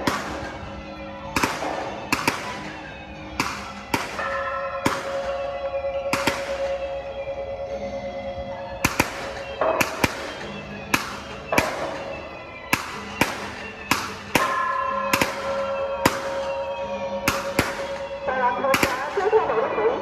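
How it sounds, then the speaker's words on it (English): Fireworks crack and pop at a temple procession in Taiwan in sharp, irregular bursts over a steady background din, some loud and close, others fainter, continuing throughout. "You can hear the fireworks cracking."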